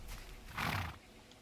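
In Kingdom Come Deliverance II, a horse gives a single short, fairly faint neigh mid-clip, rising out of quiet ambience and fading within half a second.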